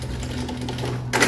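A sewing machine runs steadily, stitching synthetic fabric for a child's lunch bag, with a constant close mechanical whir and rapid needle chatter that ends in a sharp clack.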